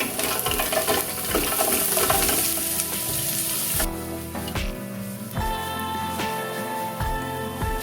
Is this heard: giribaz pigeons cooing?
no